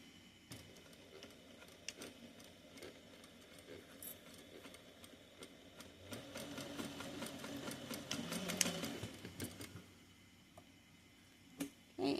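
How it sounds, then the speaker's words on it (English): A sewing machine stitches the side seams of a fabric sunglasses case at an eighth-inch seam allowance, back-stitching at start and end; a steady mechanical whir with ticking needle strokes rises in the middle, then stops near the end. "we're going to sew each side here at an 1/8 of an inch seam allowance"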